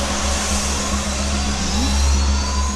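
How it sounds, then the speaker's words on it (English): The jet engine of Donald Campbell's Bluebird hydroplane roars steadily at close range during a test run, a loud continuous drone with a deep rumble and a slight rise in pitch. "After a series of checks, it's time to put the engine to the test."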